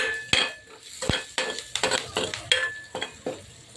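Curry leaves stirred in a hot pan for dahi kadhi, with repeated sharp spoon clinks and scrapes against the metal over a light sizzle, close up with no talk.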